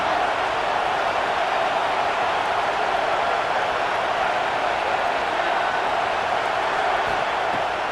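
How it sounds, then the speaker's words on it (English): A steady wall of stadium crowd roar from the college football game College Football 26 holds constant and loud without breaks, a broad wash of cheering noise. "This crowd knows when to bring it."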